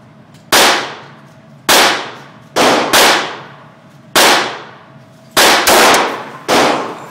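An HK45 pistol is fired eight times in irregular succession, some shots close together. Each sharp, very loud, close bang is followed by a short ringing decay, with no talking between shots.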